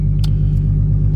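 A Chevrolet Camaro V8 idles close by with a deep, steady rumble and faint brief clicks on top, lasting just over a second.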